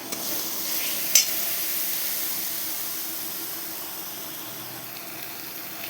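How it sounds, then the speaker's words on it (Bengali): Spice paste with salt frying in a pan, a steady close hiss of sizzling oil with a single sharp scrape of the spatula near the start, slowly easing in loudness. "মশলাটা ভালো করে কষে নেব।"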